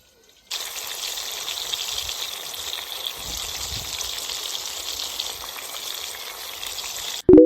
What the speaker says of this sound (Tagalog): Nagluto ako ng liempo. Ito siya, oh. Piniprito ko siya sa labas kasi maaraw